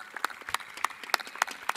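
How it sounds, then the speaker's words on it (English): Sparse, fairly faint clapping from a few people at a high school graduation, honoring students entering the United States military, with roughly six distinct claps spaced unevenly over a quiet, echoing background. "Can I get a round of applause?"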